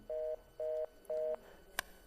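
Telephone tone after a call is hung up: three evenly spaced, steady electronic beeps, each lasting about a quarter second, followed by a sharp click, heard fairly clearly over a quiet line.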